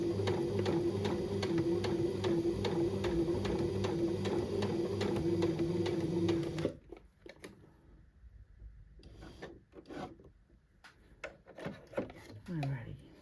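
A sewing machine stitches through a backpack shoulder strap to reinforce it, running in a steady rapid mechanical rhythm for about six seconds, then stopping and giving way to handling and rustling sounds.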